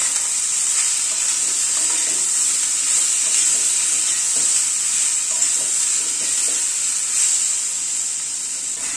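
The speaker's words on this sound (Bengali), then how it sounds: "পেঁয়াজটা দিয়ে এই মিনিট খানেক একটুখানি নাড়াচাড়া করে নিলাম।" A medium onion, finely chopped, fries in a pan with a little turmeric, giving a loud, steady sizzle throughout, while a spatula stirs it with soft scraping strokes at a relaxed pace.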